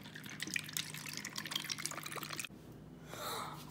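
Margarita being poured over ice into cups, a close liquid splashing and trickling for a few seconds before it stops, then a softer pour follows.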